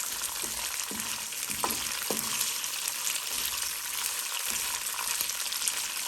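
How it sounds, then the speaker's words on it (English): Steady, close sizzling of pine nuts frying in olive oil, a constant crackling hiss with occasional light scrapes from stirring. "You can see these pine nuts are frying well."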